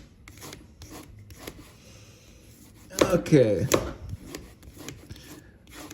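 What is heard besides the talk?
sanding a ring with a sanding stick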